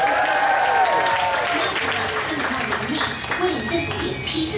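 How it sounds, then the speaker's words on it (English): Crowd applause for a finalist at an anime convention cheese-eating contest, steady clapping over a few seconds with an announcer's voice talking over it. "Please give a round of applause for our first finalist"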